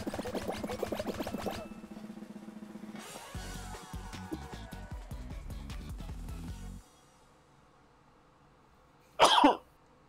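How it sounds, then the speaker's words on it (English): A single short, sharp cough bursts out near the end after a stretch of quiet, following Fall Guys game music and clattering seesaw sounds. "That was a cough."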